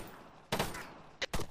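Bursts of gunfire in the military video game Arma III: one sustained volley, then a short shot and a final burst, all loud and close with no talk over them.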